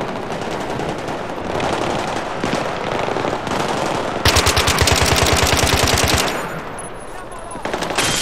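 Heavy automatic gunfire in a Battlefield 3 campaign fight, starting as sustained rattling and then swelling into a louder, tightly spaced burst of rapid shots before tapering off.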